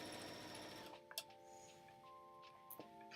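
A sewing machine stitches a fabric basket seam at one centimeter, a steady whirring run in the first second, then stopping, leaving a faint hum with a few soft clicks.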